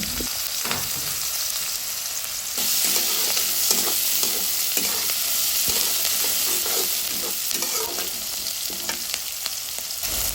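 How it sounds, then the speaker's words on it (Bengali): Chopped onion and green chili fry in hot oil in a pan while being stirred, giving a steady sizzle with repeated scraping strokes of the spoon throughout, close and fairly loud, with no talking. "এখন এই তেলের মধ্যে দিয়ে দিব কেটে রাখা পেঁয়াজ ও মরিচ এগুলো একটু নেড়ে চেড়ে নরম করে নেব"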